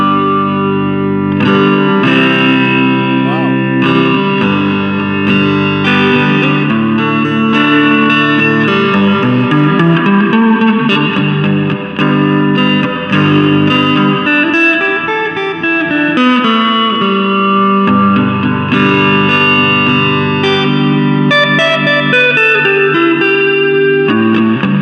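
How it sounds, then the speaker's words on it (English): Electric guitar played through a Roland Micro Cube amp with reverb turned all the way up, sustained chords and melodic lines ringing with a long wash of reverb, loud and alone. "now this is the reverb all the way up."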